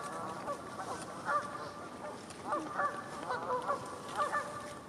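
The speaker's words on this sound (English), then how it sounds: "this ABA Code 4 barnacle goose, which showed up at Horn Pond in Massachusetts" Barnacle goose honking at Horn Pond, Massachusetts: repeated nasal, yapping calls in short clusters over steady background hiss, moderately near and fairly loud, with no talking.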